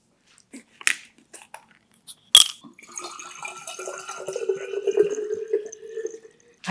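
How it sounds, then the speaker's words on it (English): A water bottle fills with water after a few clinks and a sharp knock, a steady gurgling stream rising in pitch as it fills, close by with no voices. "I have another water bottle that I'm going to fill up."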